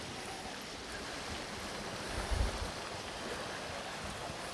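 A stream flows below a woodland path in the Fairy Glen at Rosemarkie, giving a soft, steady wash of running water heard from a distance, faint and constant with a little wind.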